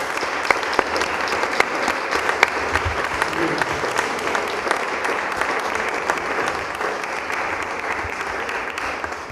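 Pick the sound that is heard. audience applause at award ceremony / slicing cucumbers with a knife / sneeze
audience applause at award ceremony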